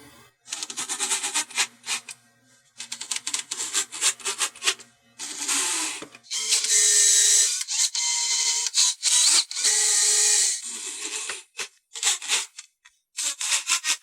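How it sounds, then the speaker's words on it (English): A drill drives screws straight into pine while building a simple reclaimed-wood end table, with repeated loud, close whirring bursts separated by short pauses. "But I will just drive screws straight into the pine here."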